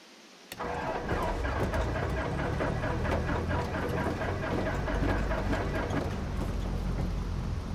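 A simulated light aircraft engine with G1000 avionics in the X-Plane 11 flight simulator starts on the key: a sudden crank and catch, then a loud, steady idling roar.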